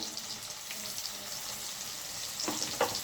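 Fish frying lightly in a pan gives a faint, steady sizzle, with a couple of brief clinks or scrapes near the end and no talking.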